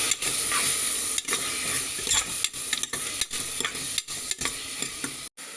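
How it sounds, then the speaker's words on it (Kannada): Ingredients fry in a pan for village-style methi bath, a bright continuous sizzle interrupted by rhythmic scraping and stirring strokes, close and loud with no voices. "ಫ್ರೈ ಮಾಡ್ಕೊತಾ ಇದ್ದೀನಿ."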